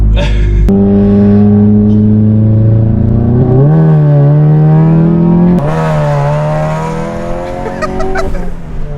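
A 350 HP Volkswagen MK7 GTI engine revs loudly up close, its pitch rising and dropping through several hard pulls, with a brief gap and rougher rev near the end.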